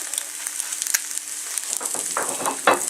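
Egg frying in a pan, a steady close sizzle with crackling spatters that pick up toward the end, alone without talk.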